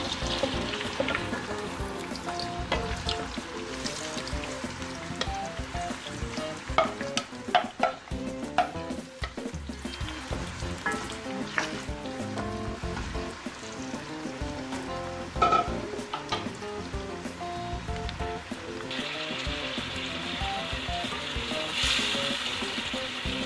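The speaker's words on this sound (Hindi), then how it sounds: "ये देखें कढ़ाई में मैंने ऑयल डाला है, इसमें चिप्स बना लें।" Potato chips deep-frying in hot oil in a kadai, a steady dense sizzle and bubbling hiss running continuously throughout, with scattered clicks and pops, no talking.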